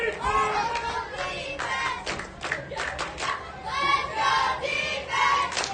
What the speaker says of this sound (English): Now you're getting the crowd into it with the Let's Go Defense chant.